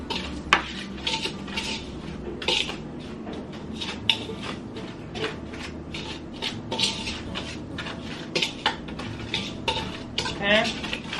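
Breading ingredients mixed together in a bowl for crispy breaded Cornish hen, giving repeated scraping, clinking stirs against the bowl in an uneven rhythm, close and moderately loud, with no talking.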